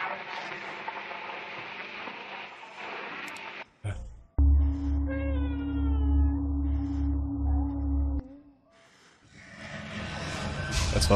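A cat meows behind a closed door, a drawn-out tonal cry that rises and falls over a few seconds, close and fairly loud, with a steady background drone before and after it.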